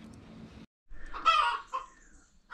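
Chickens feeding in an outdoor run give a few short, close clucks and murmurs, with brief pauses between soft bursts.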